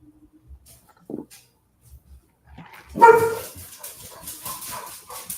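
Dogs bark and yip, starting with a few scattered quiet sounds, then a loud close burst of barking that continues in rapid repeated yaps to the end.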